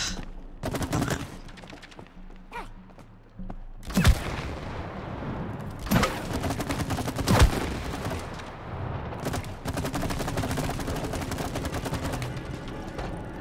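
Repeated gunfire in the video game It Takes Two, a string of sharp shots and heavier blasts over a busy, continuous game soundscape.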